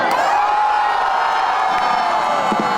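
A vast New Year's Eve crowd in Melbourne, some half a million strong, roars and cheers in one steady, dense wash of voices with scattered whoops, loud and unbroken throughout.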